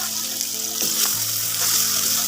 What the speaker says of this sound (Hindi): मैंने ऑयल ऐड करके तो इसको फ्राई कर लिया हुआ है।